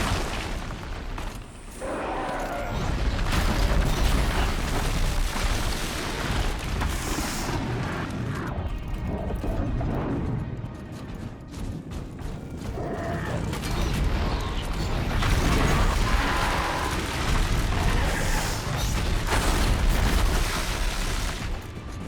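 Rattler firing metal bolts in Horizon Zero Dawn, dense mechanical clattering and ratcheting bursts mixed with booming impacts, loud and continuous with brief lulls between volleys.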